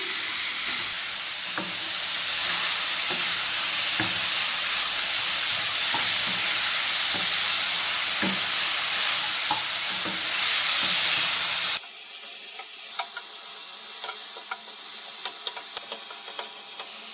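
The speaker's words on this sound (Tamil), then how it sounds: "இந்த சிக்கன் எல்லாம் பார்த்திங்கன்னா நல்லா வெள்ளை கலரில் முட்டையாட்டம் வரணும் அது வரைக்கும் வறுத்துக்கலாம்" Chicken keema fries in a pan for a green pea chicken keema curry, a steady loud sizzle and hiss with repeated scraping stir strokes, the sizzle dropping to a thinner crackle near the end.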